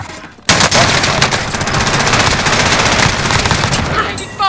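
Sustained automatic gunfire in Call of Duty: Modern Warfare, erupting suddenly after a short quiet moment into a loud, rapid stream of shots that continues without pause to the end.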